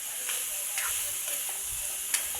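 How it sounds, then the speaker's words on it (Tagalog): Fresh eggplant (talong) frying in a pan for adobong sitaw gives a steady, soft sizzle and hiss throughout, with a few faint crackles and one brief sharper pop near the end. "Ilagay na po natin ang ating talong."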